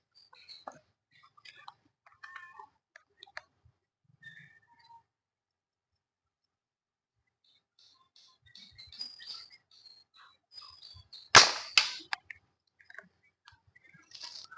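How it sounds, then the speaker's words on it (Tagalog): Airgun fired at a 35-meter target outdoors, a single sharp loud crack standing out against quiet surroundings with faint clicks and bird chirps before it. "Putok natin."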